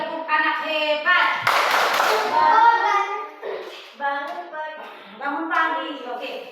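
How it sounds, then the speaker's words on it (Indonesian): Children in a classroom chant in unison with a rhythmic clapping burst in the middle, their voices carrying the patterned call before and after the claps. "tepuk anak hebat"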